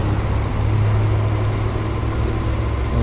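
A cheap, overheated Subaru car engine idles with a steady low hum and faint vibration, continuous and close with no voices while it waits for the radiator fan to kick in.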